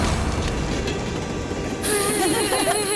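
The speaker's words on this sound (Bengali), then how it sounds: "ট্রেন আসছে।" A train approaches with a steady low rumble, and whistle-like tones rise in the second half, loud and close.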